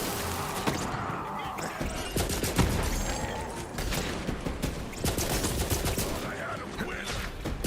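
Gunfire in the Borderlands 3 shooter game, rapid loud bursts of shots and sharp impacts in quick succession, dense and near, with brief pauses between volleys.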